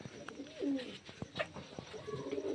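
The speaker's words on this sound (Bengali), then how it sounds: "সব মুর্শিদাবাদের গিরিবাজ লাইনের পায়রা" Murshidabad Giribaz line pigeons coo softly and close in a few low, rolling calls, with faint background noise between them.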